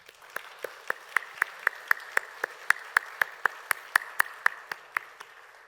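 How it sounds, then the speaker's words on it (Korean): A church congregation claps in encouragement during a Wednesday worship service, a sharp, evenly spaced rhythmic clap of about twenty beats, loud and close with no talking over it. "우리 격려의 박수 하겠습니다."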